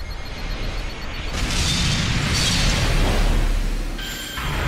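Dirty Fireworks attack explosions in the Dragon Ball Legends video game: a loud burst of booming blasts swelling in the middle, then fading out.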